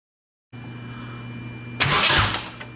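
An Ecotec engine swapped into an Exocet car cranks and catches on its first start, a steady electrical hum giving way to a loud burst of starter whir and engine noise near the microphone.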